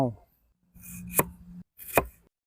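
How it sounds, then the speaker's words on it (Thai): A knife chops pork sausage and spring onions on a cutting board, with a brief sawing pass and two crisp, distinct chops up close. "ต่อไปก็จะหั่นขึ้นไส้กับต้นหอมแล้วนะครับ"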